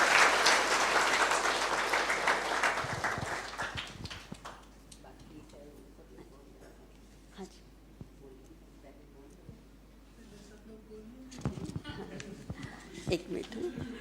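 An audience at a Brahma Kumaris gathering in Borivali breaks into loud, dense applause for several seconds, then fades to scattered claps as a speaker continues talking over the hall.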